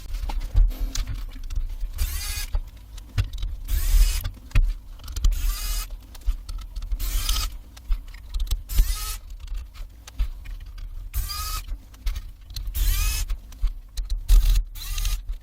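A screwdriver works through fan screws on an MSI Ventus 3X RTX 4060 Ti graphics card, giving a series of short, close ratcheting and scraping bursts separated by quiet gaps, with no talking.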